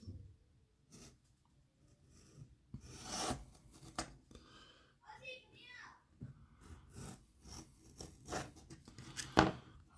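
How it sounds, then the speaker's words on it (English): Pieces of a Disney dolls house kit are trimmed out, with intermittent scraping, rasping and snipping strokes at close range. A person talks quietly between the cuts. "So now we're going to trim these pieces out."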